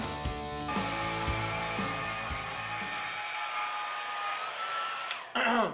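A hair dryer blows a steady, close drone, used for bow string maintenance; the whirring holds throughout, with no talk.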